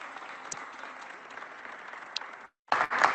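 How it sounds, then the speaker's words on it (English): A crowd claps steadily at a Philadelphia mayoral press conference, a dense even patter for a couple of seconds, then a brief gap before a louder, closer burst of clapping resumes. "Let's give them the King's round of applause."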